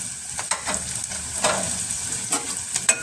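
Chayote pieces tossed into a pan of sautéed onions, a steady close sizzle and crackle of frying with a few sharper spatters and stirring scrapes, no voices.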